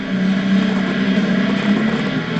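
A Nissan GT-R sports car engine gives a steady, smooth low drone at a constant pitch, moderately loud and unbroken, with no talking over it.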